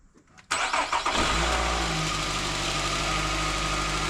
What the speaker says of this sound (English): I'm gonna start it up and make sure everything's good.